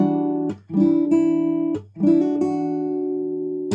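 Sustained acoustic guitar notes, with brief breaks where strings are plucked again; a short pattern of rolled notes and ringing plucks, played alone up close.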